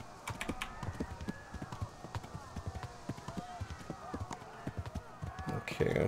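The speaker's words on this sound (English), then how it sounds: "Back to the horse with the strange bridle there" Horse hooves clip-clopping at a steady, brisk gait in a video game, rhythmic repeated hoofbeats at moderate volume with quieter clatter in between.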